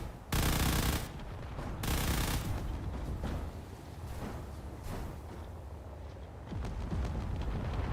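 Mortar barrages in the game Space Engineers during an RTS battle scenario, loud continuous rumbling blasts with a few sharper bursts, dense and close with no pause between impacts.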